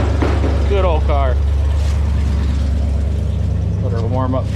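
An MGB sports car engine idling as it warms up, a steady low rumble running throughout under a man's speech.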